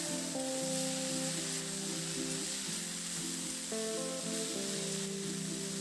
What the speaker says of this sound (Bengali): এবার নাড়াচাড়া করে শাকটাকে সবজির সঙ্গে খুব ভালো করে একটু মিশিয়ে দেব।